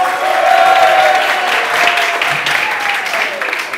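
A congregation at a prophetic church service claps together in a dense, steady burst, with a voice briefly calling out over the clapping before it tapers slightly.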